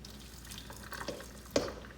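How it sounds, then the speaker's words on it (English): Potato cooking water draining through a strainer into a kitchen sink, a faint steady trickle and splash with a few drips, then a brief sharper splash near the end. "So I just sort of strain it through the strainer down here."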